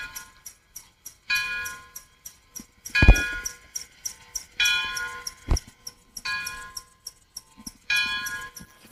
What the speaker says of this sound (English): the movement of the bell is very fast indeed and rather rough